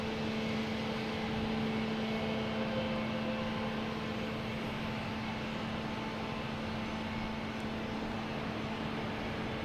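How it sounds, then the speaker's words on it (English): A Delta Airbus A321neo takes off at Boston Logan Airport, heard as a steady, distant roar of jet engines with a faint tonal hum, continuous and even throughout, without talk. "Next taking off, we have a Delta, an A321neo, heading to Las Vegas."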